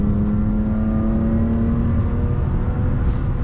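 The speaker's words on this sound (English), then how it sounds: "It's amazing, guys, to drive BMW that road." BMW E36 320i Coupe engine at sustained high revs on a curvy track road, a loud steady drone with a strong tonal whine and little change in pitch, heard close from inside the car.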